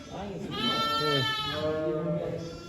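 Newborn lambs bleating at a farm where lambing has begun, several wavering, quavering cries overlapping close by over about three seconds, with people talking faintly in the background.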